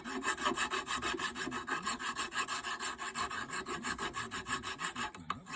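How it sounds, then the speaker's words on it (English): A square file rasps rust from under a Subaru brake caliper clip in steady, rhythmic back-and-forth strokes, close and clear with no talking. "I take a square file, and you can see there's a buildup of rust and stuff under that clip"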